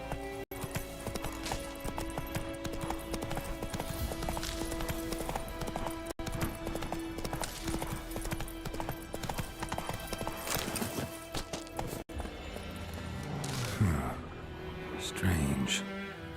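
Roach, a horse in The Witcher 3, gallops with steady rhythmic hoofbeats under game music and ambient sound, with a brief whinny near the end and a voice speaking.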